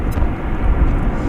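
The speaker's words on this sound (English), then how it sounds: "And Embraer 175 from Tulsa" An Embraer 175 airliner arriving from Tulsa at DFW Airport, heard as a steady, broad engine roar that fills the short stretch without any voices.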